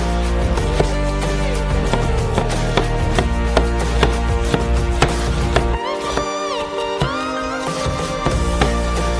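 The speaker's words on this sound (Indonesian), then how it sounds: "Kupas bawang bombay besar ini. Dan potong dadu kecilnya." Knife chopping a large onion into small dice, steady rhythmic taps on a cutting board, close and clear, over a continuous background music bed.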